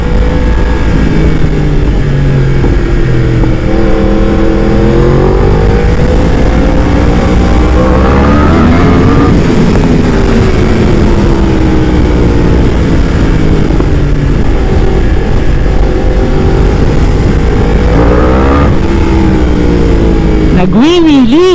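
A 2020 Yamaha R1 with a cross-plane crank engine and Brembo brakes revs loudly and close up, its pitch climbing and falling through repeated throttle sweeps while someone talks excitedly over it.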